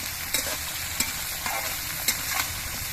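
Taro stolons frying in oil with turmeric and slit green chillies give a loud, dense sizzle, punctuated by several distinct scrapes and knocks of a spatula being stirred through the pan, close and without speech.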